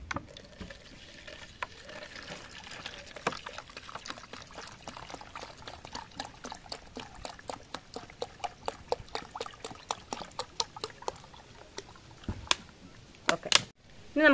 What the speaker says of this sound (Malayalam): അപ്പം ഇത് ഞാൻ ഇതിലോട്ട് ഒഴിക്കുകയാണ്